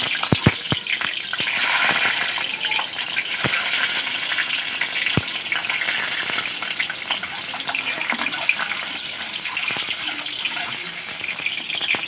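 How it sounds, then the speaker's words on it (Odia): Egg frying in hot oil for an egg curry, a steady dense sizzle with scattered pops and crackles throughout, close and fairly loud with no talking. "ତେଲ ଗରମ ହୋଇଆସିଲେ ଅଣ୍ଡାଟାକୁ ଭାଜିଦେବା।"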